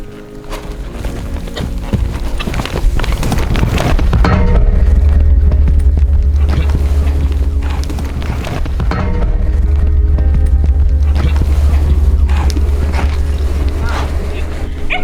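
Heavy, rhythmic hoofbeats pound close by as a horse moves fast, with thudding impacts and some rustling throughout.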